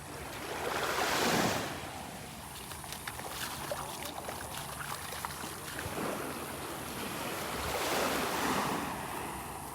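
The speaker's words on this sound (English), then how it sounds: "Area 5 Beach at the north end of Delnor-Wiggins Pass State Park in beautiful North Naples, Florida" Ocean waves wash onto the shore at Area 5 Beach, Delnor-Wiggins Pass State Park in North Naples, Florida, with two swelling surges amid steady wind buffeting the microphone, soft and moderately distant.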